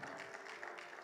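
A church congregation applauds together, a dense, steady wash of clapping filling the room for the whole moment without pause.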